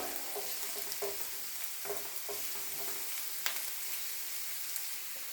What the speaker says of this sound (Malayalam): നമുക്ക് സവോള നന്നായിട്ട് വഴന്ന് വഴന്ന് വരുന്നോടം വരെ നന്നായിട്ട് നമുക്ക് ഇളക്കി കൊടുത്തോണ്ടിരിക്കാം